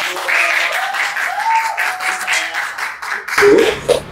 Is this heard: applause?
yes